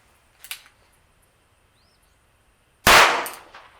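A Ruger .22 rifle fires CCI Blazer ammunition outdoors: one loud, sharp crack with a short decaying tail, after a fainter earlier pop.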